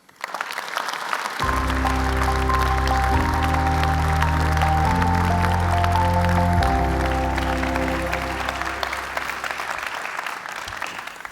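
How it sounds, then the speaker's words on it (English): A conference audience at the European Economic Forum 2025 in Lucerne claps warmly for Robert Habeck, a loud sustained wave of applause lasting about ten seconds over sustained music chords that shift in steps, then fading. "Please give him just as warm a round of applause as you gave everyone else"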